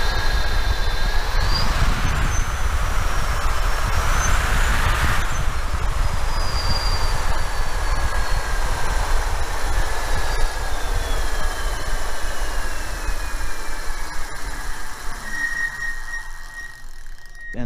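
Electric bike hub motor revving on a stand, a steady whining drone with pitch rising and falling through a couple of pulls, held loud and continuous throughout with no talking.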